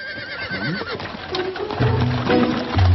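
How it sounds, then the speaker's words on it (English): A horse-drawn wagon approaches in a Lucky Luke cartoon, with a horse whinnying and neighing, hooves clip-clopping and wheels rolling, growing louder toward the end over a music bed. "Ah, there's a wagon coming."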